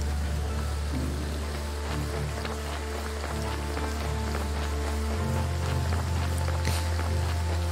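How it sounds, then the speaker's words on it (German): Steady rain hiss with a low rumble fills a stormy scene in the video game Graveyard Keeper, a continuous wash of falling rain and thunder lasting throughout without speech. "Jetzt regnet und gewittert es."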